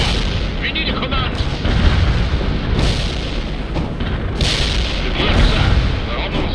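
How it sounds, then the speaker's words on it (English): Incoming artillery pounds the battlefield in the war strategy game World in Conflict, a dense barrage of heavy booms and rumbling blasts that carries on throughout, with bursts of radio voices over the fire. "Achtung, incoming fire!"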